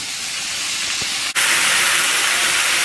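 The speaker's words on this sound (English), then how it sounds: "When it's hot enough, put our chorizo in there." Chorizo dropped into a skillet preheated on medium-high heat, a steady broadband sizzle that jumps suddenly louder as the meat hits the pan and then holds at a constant, close hiss with no talking.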